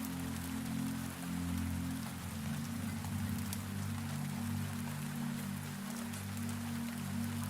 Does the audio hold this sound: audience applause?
no